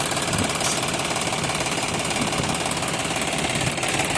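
A John Deere 5103 tractor engine idles nearby in a steady, rhythmic diesel chug that stays even and moderately loud throughout, with no talk over it.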